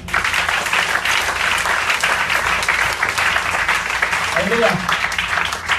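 A church congregation applauds with steady, dense clapping that carries on throughout while a voice calls out briefly over it.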